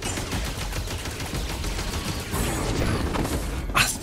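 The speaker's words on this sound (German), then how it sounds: "Ich schieße jetzt" Blaster fire in Star Wars Jedi: Fallen Order, a dense, loud run of rapid energy shots over a busy game mix, ending in a sharp bright zap near the close.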